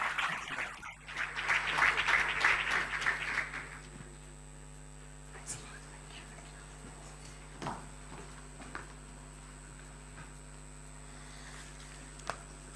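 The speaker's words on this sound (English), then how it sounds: "Another round of applause, ladies and gentlemen." An audience at a conference fireside chat applauds, a dense burst of clapping that fades after a few seconds and leaves a quiet room with a steady mains hum and a few faint knocks.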